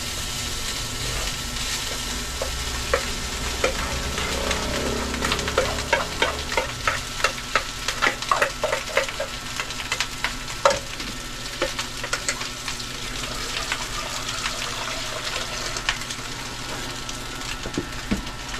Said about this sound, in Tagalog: Lagay na natin yung sinangag.